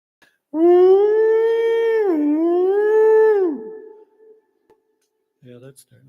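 A human voice imitates a whale call with one long, loud, close howl that dips and rises in pitch for about three seconds before trailing off, followed by a brief quieter vocal sound.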